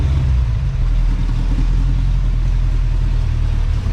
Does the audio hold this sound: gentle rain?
no